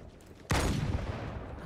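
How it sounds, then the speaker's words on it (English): Sudden burst of gunfire in Halo 2 Anniversary on Legendary co-op, erupting after a quiet moment and sustained as a dense, loud volley aimed at the player, with no talking. "Who the fuck is shooting me?"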